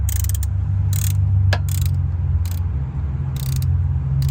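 Hand ratchet cranking on Ford Fiesta rear transmission mount bolts: loud, close bursts of rapid clicking in repeated strokes with short pauses between them, no voices.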